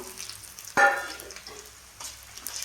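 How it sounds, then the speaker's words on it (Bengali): Ginger and garlic paste hits hot oil in a pan over fried onions with a sudden loud sizzle burst, then settles into a soft, steady crackle with faint scrapes. "এবার দেবো আদা বাটা, রসুন বাটা"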